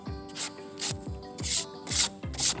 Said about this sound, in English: all I'm gonna do is just hit it slightly with sandpaper on some edges